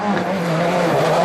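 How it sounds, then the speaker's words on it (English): Rally car cornering hard on a Corsica tarmac stage in the 2008 WRC France round, its engine note loud and close with a steady high-revving whine through the bend. "Look at the constant cornering from Duval here."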